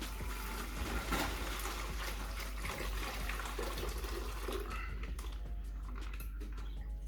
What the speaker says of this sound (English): we are going to add some water here.